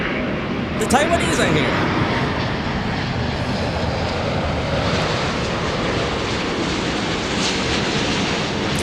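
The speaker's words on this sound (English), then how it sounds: "This one coming in from Taipei, Starlux, Flight 2." Starlux Flight 2 from Taipei arrives at LAX with a steady, loud broadband jet roar that holds throughout, and a voice speaks briefly near the start.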